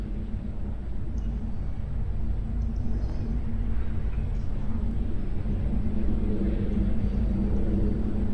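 A Transporter-10 aircraft in the Roblox game Aeronautica rumbles steadily on its takeoff run, a continuous low engine drone that holds constant throughout with no voices.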